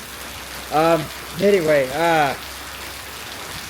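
A heavy downpour at night in Indonesia makes a constant dense hiss, while someone speaks briefly over it.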